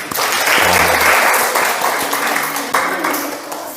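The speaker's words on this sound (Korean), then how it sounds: "우리 박수 한번 주겠습니다" Congregation applause during a Sunday church sermon, a dense wash of many hands clapping that swells early and holds steady for several seconds before gradually thinning, with a faint murmur of voices underneath.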